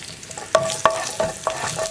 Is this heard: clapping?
no